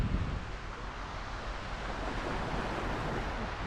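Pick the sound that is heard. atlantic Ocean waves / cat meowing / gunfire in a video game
atlantic Ocean waves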